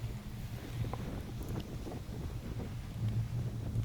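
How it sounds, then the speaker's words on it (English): Strong wind buffets the microphone in a low, continuous rumble with gusty swells, outdoors and close on a cold lakeside trail. "even though it was very windy"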